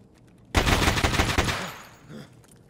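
Automatic gunfire from a video game firefight, a loud rapid burst starting abruptly and rattling for about a second before tapering into quieter trailing sounds.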